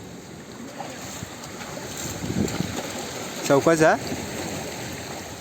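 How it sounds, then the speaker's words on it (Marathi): Sea waves wash and surge around a boat at sea, with steady wind buffeting the microphone; a person speaks briefly in the middle, and louder splashing swells come through near the end. "लाट आहे तिथे, लाट येत आहे पुढे होते."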